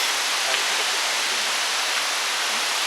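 Khlong Lan waterfall roars as a steady, dense wash of falling water, loud and continuous with no variation or voices.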